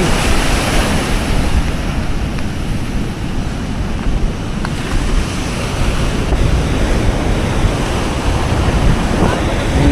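Heavy surf roars continuously, rough waves crashing and churning on the shore, loud and close, with wind buffeting the microphone.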